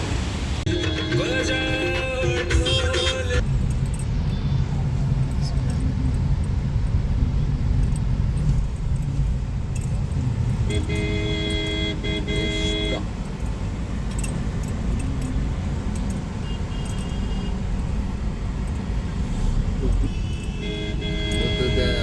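Street traffic in Varanasi as a car arrives: a constant roar of engines and road noise with scattered horn toots and metallic jingles, people talking over the din.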